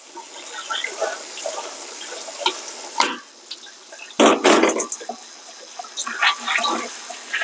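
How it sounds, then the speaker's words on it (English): Hot tap water runs and splashes over frozen diced vegetables in a sink, a continuous rinse with bursts of louder splashing and gurgling as the stream shifts. "give that a light rinse off with hot water"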